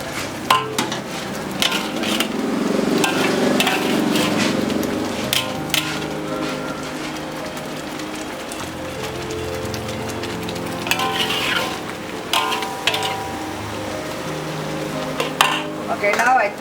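Chili paste sizzles steadily in oil in a pan for stuffed-chili fish, with a spatula scraping and clinking against the metal now and then, close and fairly loud.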